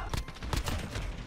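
Odin rifle gunfire in a video game, a dense, steady stream of overlapping shots and impacts crowding the whole clip at close range with no pauses.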